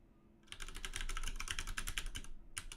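Rapid keystrokes on a computer keyboard clatter close by in a quick, continuous stream, pausing briefly before a final burst of presses.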